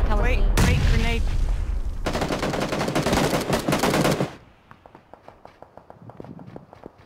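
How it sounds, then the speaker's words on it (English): Grenade detonation in the PUBG battle royale video game, a loud broadband burst with heavy gunfire-like crackle, cutting off abruptly into quieter rhythmic footsteps and faint game sounds. "Throwing a grenade."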